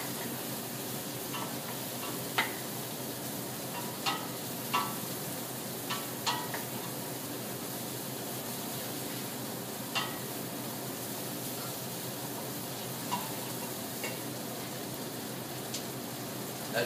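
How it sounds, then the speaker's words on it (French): Onions sweat in a pan for beef with carrots, giving a steady, even sizzle throughout, with occasional light taps and clicks of a utensil stirring. No talking. "On va continuer à suer nos oignons."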